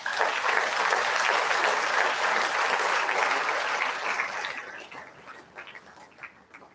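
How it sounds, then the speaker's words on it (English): An orientation program audience gives a full round of applause, dense clapping holding strong for several seconds before thinning out to scattered claps near the end. "Let me start by asking you to give respect to the round of applause."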